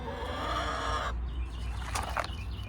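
Backyard chickens in a garden cluck close by, a few short bursts of clucking over a quiet outdoor background.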